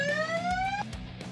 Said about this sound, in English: Andrew, can I hit the siren?